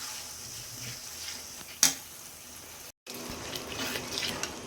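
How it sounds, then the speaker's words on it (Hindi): Masala with kasuri methi roasting in a pan over a slow flame gives a soft, steady sizzle and hiss, with one sharp clatter partway through and a brief silent gap. "अब इन सभी चीज़ों को अच्छे से बिल्कुल स्लो फ्लेम पे भूनेंगे।"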